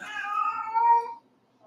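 A cat meows in one long, drawn-out call lasting about a second, loud and close, ending abruptly before brief silence.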